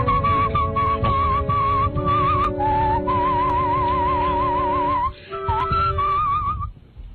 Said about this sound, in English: this is where we're stopping his poor CD as he's trying to whistle for us.